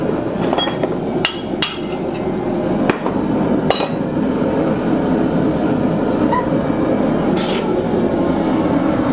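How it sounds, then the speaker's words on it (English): A hammer gives light taps to a metal stake cup holder on an anvil: about half a dozen sharp, ringing metallic strikes at uneven intervals, loud and close over a steady low background rumble. "Just going to give it a couple light taps."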